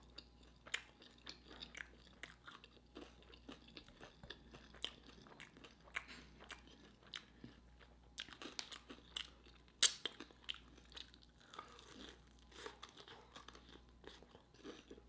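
Close, quiet crunching and chewing of Popeyes Sweet N Smokey Chipotle chicken wings eaten at home, with repeated crisp bites and wet mastication in an irregular rhythm.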